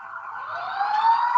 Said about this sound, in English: I all I heard was a siren.